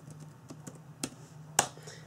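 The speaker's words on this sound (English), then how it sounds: "Now I'm just going to type in my details." Typing login details on a computer keyboard, a quiet irregular run of single key clicks with one sharper louder keystroke near the end.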